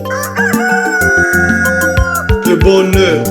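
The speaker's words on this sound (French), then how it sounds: "Il fit le coq pour le réveiller tous les jours." A rooster crows loudly and at length in a long, harmonic cock-a-doodle-doo over steady background sound, with a few sharp knocks and clucks mixed in.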